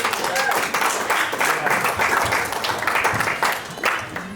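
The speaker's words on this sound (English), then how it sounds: "Give them a big round of applause." A magic show audience applauds loudly and steadily for several seconds, a dense wash of clapping hands that thins slightly near the end.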